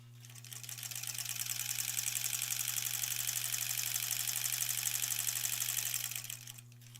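A sewing machine stitches quilt blocks together in one steady, continuous run of rapid needle chatter with a constant motor hum, fading in and stopping near the end, with no talk.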